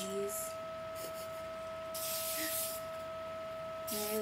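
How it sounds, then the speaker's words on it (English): Several short hissing bursts of hairspray sprayed onto hair roots up close, a brief puff followed by a longer two-second spray and another at the end. "I really just want to spray the roots"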